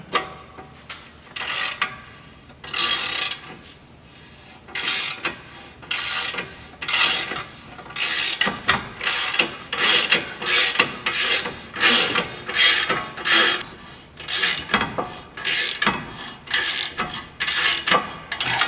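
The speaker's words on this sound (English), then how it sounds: "using that wrench on the back side, I'm going to start driving this bearing in" Repeated ratcheting of a wrench driving a new front wheel bearing into the hub of a Honda Civic, with no press used; loud, close, rhythmic bursts of clicking strokes in steady runs with short pauses, no talking.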